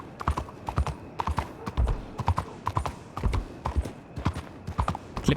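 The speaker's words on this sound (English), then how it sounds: "Clip clop, clip clop." Horse hooves clip-clopping steadily in Red Dead Redemption 2, an unbroken walking rhythm of sharp close hoof strikes with faint background ambience.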